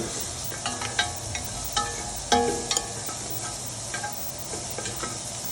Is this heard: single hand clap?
no